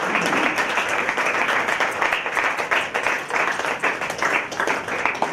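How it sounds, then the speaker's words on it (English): Lecture audience at the University of Madras event held in CLRI applauding steadily, a dense, sustained wash of many hands clapping at an even level throughout. "I request once again all of you to give a big applause to"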